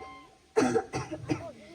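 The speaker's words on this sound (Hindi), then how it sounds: "डॉक्टर साहब, मुझे 1 हफ्ते से खांसी हो रही है" A man coughs three times in quick succession, harsh and close, after a short quiet moment, in a comedic doctor's-visit scene.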